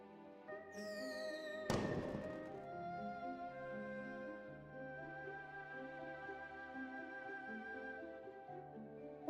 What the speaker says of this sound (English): Wow, those fireworks are gorgeous!